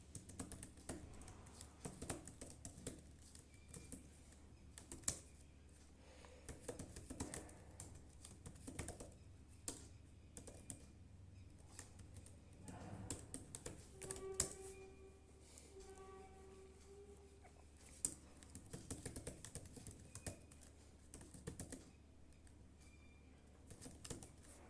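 Steady, quiet computer keyboard typing while code is entered, with clusters of soft keystrokes and brief pauses, close and alone with no talk.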